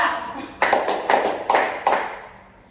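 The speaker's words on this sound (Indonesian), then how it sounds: "Intinya ibu sebut 1, berarti adik-adik harus tepuk tangannya 3 kali." Children in a group guidance ice-breaking game clap their hands together in unison, a few sharp, evenly spaced claps ringing out in a room.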